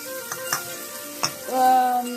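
Cumin, fennel, asafoetida, shallots, green chili and garlic sizzling in hot coconut oil in a pan, a steady crackling fry with a few stirring knocks and a tonal hum rising near the end.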